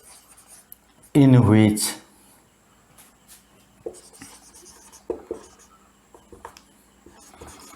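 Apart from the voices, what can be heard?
writing out a nuclear reaction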